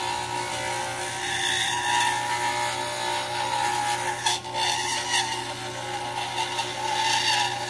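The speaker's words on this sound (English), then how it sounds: "we would just go ahead and buff it smooth after this burr and not have to use this other burr" A dental burr grinds and smooths an acrylic denture, giving a steady, close, whirring abrasive sound with slight shifts in pitch and pressure and no talking.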